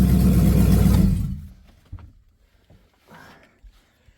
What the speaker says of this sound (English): little louder because I cut the exhaust off right now